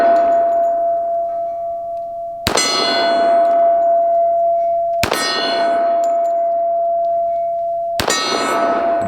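Three one-handed shots from a .45 1911 pistol strike a steel cowboy target, each a sharp clang followed by a long sustained metallic ring, spaced a few seconds apart with no talking.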